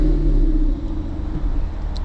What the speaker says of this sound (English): let's start the car and get rolling